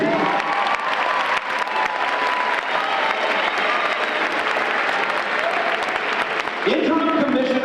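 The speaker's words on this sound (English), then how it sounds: "go ahead, applaud. You need to." A gathering of about 400 educators applauds a Teacher of the Year announcement at a ceremony in Wichita, steady close clapping running throughout with a voice rising near the end.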